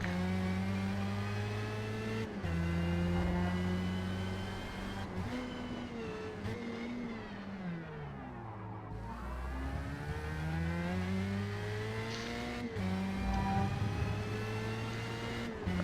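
A Formula Mazda race car in the Forza Motorsport game at Yas Marina Circuit, its engine note climbing and dropping through repeated upshifts and downshifts, braking into a corner then accelerating hard again, loud and close with no talking.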